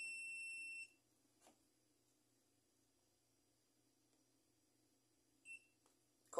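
Digital multimeter set to its audible continuity range gives a clear electronic beep, then falls quiet before a second brief beep near the end, heard alone with no talking.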